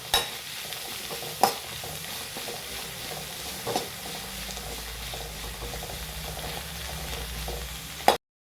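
A curry base is sautéed and stirred in a pan, giving a steady close sizzle and frying hiss with a few sharp spoon clinks against the metal, and no talking.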